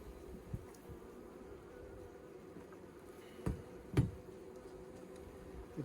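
Honey bees in a hive being readied for fall, giving a low, steady hum close by, with a few brief clicks and knocks from handling the frames.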